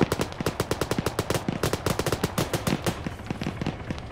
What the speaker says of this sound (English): What kind of fucking gun was that?